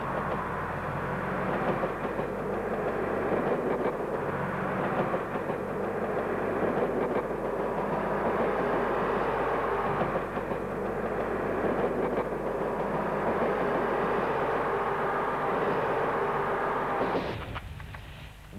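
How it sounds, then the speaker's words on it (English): A green diesel multiple unit train at Birmingham New Street gives off a steady, loud, broad mechanical rumble that continues for most of the time and then drops away abruptly near the end. "another green DMU,"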